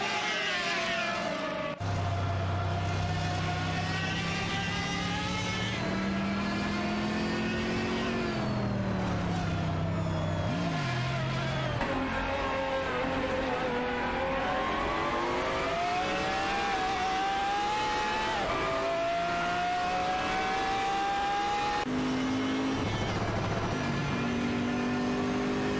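Lamborghini Reventon race cars in an AI racing video game, continuous engine whine rising and falling through gear changes, loud and sustained throughout with no talk.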